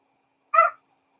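A single short cat meow, close and clear, lasting about a quarter second in an otherwise silent indoor room.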